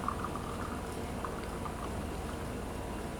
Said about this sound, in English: After that we would add milk into it.